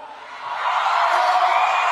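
A political rally crowd swells into cheering and shouting, a broad roar building from moderate to loud and holding, with no single voice standing out.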